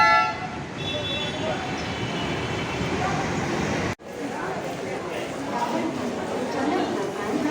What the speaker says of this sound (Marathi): ही ट्रेन तर आपली सुटलेली आहे